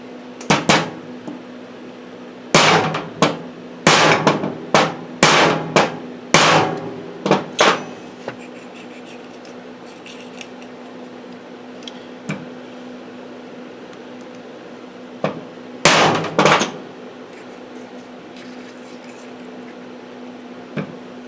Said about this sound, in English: I got a rubber mallet here. So just give it a couple of taps.